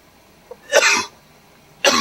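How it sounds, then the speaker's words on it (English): Two bursts of coughing from a cyclist during Race Across America 2002, close and fairly loud: a harsh cough with a short rough follow-up, a pause, then another sharp cough at the end. "he was coughing too hard"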